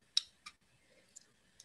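Sparse computer keyboard typing during an online talk: four separate key clicks, sharp and fairly close, with short pauses between them and no voices.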